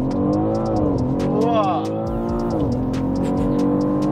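A BMW M car launches with launch control, its engine roaring and rising in pitch through shifts, loud and close, with faint ticking above and no clear talk.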